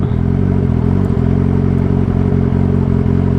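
Turbocharged Suzuki Hayabusa motorcycle engine held under throttle, a loud, steady droning roar with a dense buzzing, clattering texture close to the microphone, running continuously without talk.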